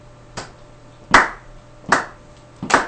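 Rhythmic hand clapping at an open mic, four sharp claps spaced about three-quarters of a second apart, close and clear with quiet between them.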